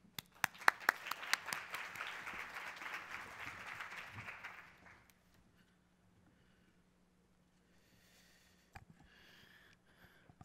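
An audience applauds to welcome Dr. Sam Phiri at a talk on cancer care and research in Southern Africa: a dense burst of clapping that fades out after about five seconds, followed by quiet with a few faint handling noises.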